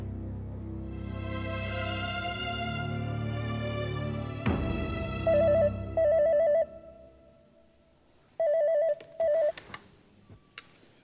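A telephone rings in a household scene of a family drama serial, with short repeated electronic ring bursts following a musical sting.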